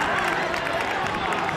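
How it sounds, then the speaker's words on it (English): A crowd at a schools rugby match between Merchant Taylors' and Reading Blue Coat roars and applauds after a try, a steady wash of cheering and clapping under a commentator's voice. "And the crowd's gone absolutely bananas"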